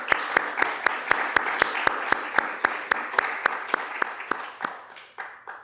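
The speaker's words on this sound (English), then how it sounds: "So I'd like to give them a round of applause." Audience applause after an introduction at an evening anniversary lecture: sustained crowd clapping with sharp, regular claps standing out, fairly close and steady, thinning out toward the end, with no talk over it.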